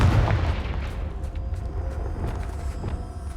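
Confringo spell blast in Hogwarts Legacy, a dense booming burst with rumbling, crackling tail that fills the whole moment, with no talk.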